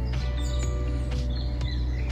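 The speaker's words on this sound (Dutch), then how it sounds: "het hoor je ook wel een beetje aan de vogeltjes" Small birds chirp in the early morning near a playground, with faint, scattered tweets over a steady low background hum.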